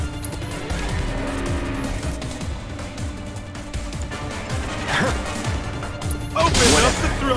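A racing car engine roars at full throttle, with tires squealing, skidding and a loud crash near the end, mixed with other busy, steady noise throughout.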